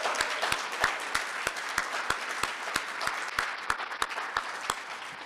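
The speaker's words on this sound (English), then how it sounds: "let's give them a big round of applause to the TCC staff" Steady audience applause fills a graduation ceremony hall, with a dense wash of many hands and a few sharp, regularly spaced claps standing out near the front, holding an even level throughout.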